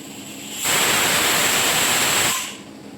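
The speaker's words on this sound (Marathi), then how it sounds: "कुकरान शिजत घातलेले, ते 3 शिटयो काडल्या" Steam bursts from a pressure cooker whistle as chicken masala cooks, a loud, steady broadband hiss lasting about two seconds before cutting off, with a faint high tone running through it.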